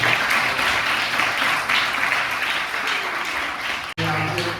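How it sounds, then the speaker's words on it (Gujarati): An audience at a school institution event in Amreli gives a sustained round of clapping to welcome visiting guests, loud and continuous for several seconds, with a voice audible alongside before a brief break near the end. "આપણે સૌથી પહેલાં એમને ખૂબ તાળીઓથી વધાવીએ."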